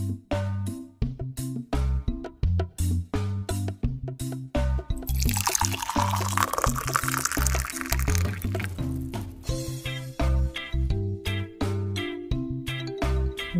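Water pours steadily into a jug for a few seconds in the middle, a bright rushing splash that rises over a bouncy children's song with a regular beat playing throughout.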